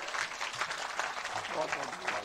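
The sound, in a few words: audience applause, clapping loudly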